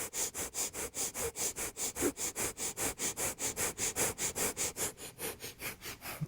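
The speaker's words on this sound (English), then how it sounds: "begin a breath of fire again" Rapid rhythmic nasal breath-of-fire breathing during a Kundalini warm-up with knees hugged to the chest, steady quick sniffs at about three per second, close and alone.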